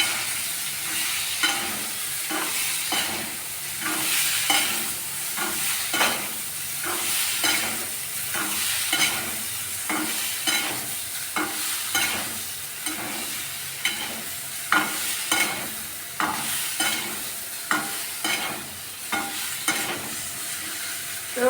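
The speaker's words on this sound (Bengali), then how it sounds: "ফুলকপিও ভাজা ভাজা হয়ে গেছে।" Cauliflower florets frying in oil in a wok, a continuous close sizzle broken by regular scraping stir strokes throughout, with no talking.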